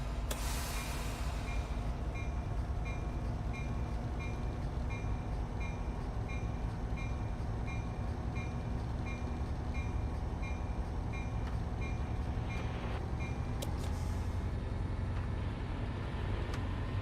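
An F40PH diesel locomotive with Melbourne Train Guy modded sounds runs on Caltrain's Peninsula Corridor in Train Sim World 6, a steady low engine drone with a short air hiss at the start and another partway through.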